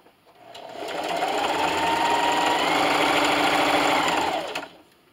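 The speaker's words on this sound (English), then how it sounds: "I'm going to backstitch in the beginning, and with a 1/4 inch seam allowance, I'm going to sew those three sides." Sewing machine running a straight quarter-inch seam on fabric for a keyboard wrist rest, one steady loud continuous whir lasting about four seconds, ramping up and winding down, close and alone.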